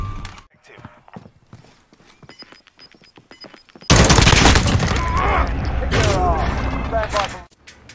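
Dense, loud gunfire from the Call of Duty: Modern Warfare Warzone video game erupts midway and keeps going as rapid overlapping shots and bursts, after a quieter stretch of clicks and scattered talk; voices come through under the firing.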